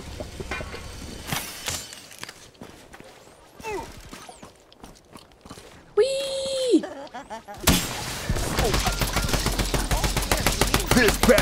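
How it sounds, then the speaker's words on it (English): Shotgun blasts in the Block N Load video game, sharp irregular shots mixed with other busy game effects that grow louder and denser toward the end. "he's shooting me with a shotgun!"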